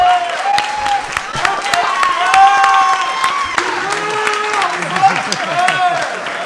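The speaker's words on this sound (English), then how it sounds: "Round of applause for everyone that's been here" Applause and cheering from the crowd at a live podcast taping in a New York venue, mixed with whoops and voices, loud and sustained.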